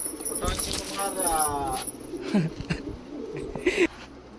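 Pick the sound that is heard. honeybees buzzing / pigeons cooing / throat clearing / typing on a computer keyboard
pigeons cooing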